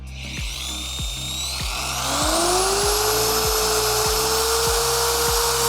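A power tool whirs up to a steady high-pitched drone, running continuously over a rhythmic thumping hum in the background.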